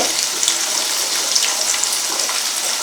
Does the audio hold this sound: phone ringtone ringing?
no